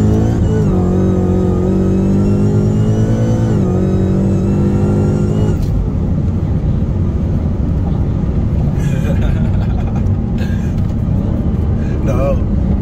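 A tuned Dodge SRT Hellcat pulls hard from a 60 mph roll, its engine roaring loud and steady from inside the car, rising in pitch before a shift, with voices talking over it.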